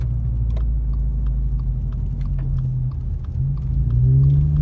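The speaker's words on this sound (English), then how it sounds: "So we are driving up here in the hills." A car climbing a hillside road near Big Bear Lake, California, its steady low engine rumble and road noise close and continuous, the engine note rising toward the end as it works up the grade.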